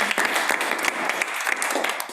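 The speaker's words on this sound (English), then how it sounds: "Give him a round of applause." A round of applause at an entrepreneur mental health lunch-and-learn greets a current in-flight program participant, dense continuous clapping close by, steady and bright for a couple of seconds with no voices over it.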